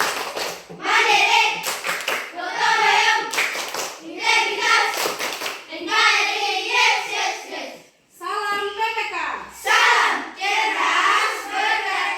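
A class of children claps out the Tepuk PPK chant in short, sharp bursts of rhythmic hand claps with young voices shouting along, the sequence pausing briefly before a final round.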